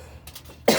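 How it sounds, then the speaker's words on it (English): A single loud cough bursts out near the end, preceded by faint breathy rustling. "They say when you cough like this, it's good."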